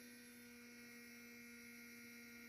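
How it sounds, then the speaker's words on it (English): A Hyperblade massage gun running on level 1 gives off a faint, steady electric hum with no variation, alone in an otherwise quiet room. "You can hear a hum pretty good on there."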